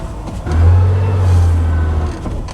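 A 1982 Porsche 911 hotrod engine idles while warming up, a loud, close, steady low rumble that swells slightly and then settles, with no voices.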